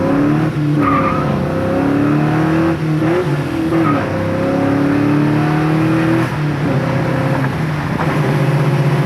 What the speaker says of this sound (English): I think I could sit here all day and just rev it up.